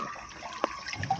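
Water flows in a village setting, a soft, steady trickle at low volume with a few faint splashy accents during the brief stretch, and no voices.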